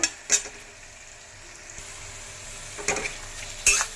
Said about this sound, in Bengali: চিংড়ি মাছগুলো দিয়েছি দিয়ে অল্প করে নাড়িয়ে নিচ্ছি